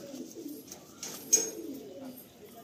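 Pigeons from a breeding pair coo softly at close range, several low throaty coos in an uneven rhythm, with faint light rustling and a brief sharper sound in the middle, no talking.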